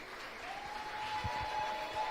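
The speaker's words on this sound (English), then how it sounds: "Round of applause for all our designers as you see them coming out." Audience applause for designers at a Women In Print fashion show in Johannesburg, a steady crowd clapping that builds slightly and holds throughout, without voices.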